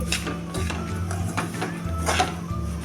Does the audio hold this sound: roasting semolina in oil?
yes